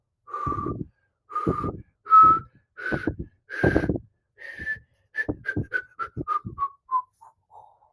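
A person whistles alone at close range, a series of clear separate tones, first several longer notes at steady pitch, then a quicker run of short notes that falls in pitch and fades.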